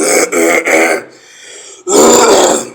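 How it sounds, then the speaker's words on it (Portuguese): Someone nearby clears their throat loudly in a few rough, guttural bursts, pauses briefly, then clears it once more with a harsh rasp. "Eu tô com um pouco de pigarro aqui"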